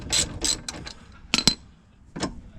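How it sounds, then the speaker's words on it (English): A ratchet on a 15mm rear suspension bolt during a coilover fitting, a few short bursts of metallic clicking separated by pauses, close and fairly loud. "If you undo this bolt with a 15mm, it should be about ready to come out now."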